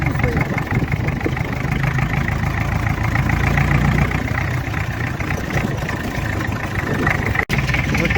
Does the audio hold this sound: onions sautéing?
no